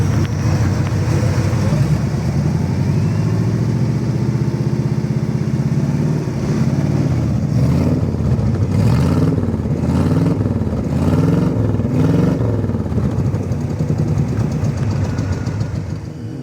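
A 1954 rat rod engine idles loudly with a rough, lumpy exhaust rumble, its pulsing beat steady and close for the whole stretch.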